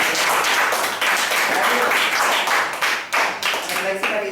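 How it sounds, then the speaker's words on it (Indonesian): Classroom applause for a student named Syifa, a dense, steady patter of many hands clapping close by with no pauses, fading slightly at the very end. "Berikan aplaus kepada Anda Syifa."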